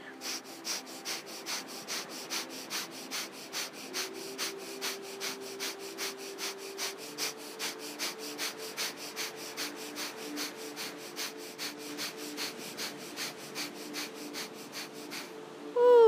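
Rapid yogic fire breath, kapalabhati pranayama, with a long steady train of quick, evenly spaced forceful nasal exhalations, close and moderately loud, running without pause and ending in a louder burst.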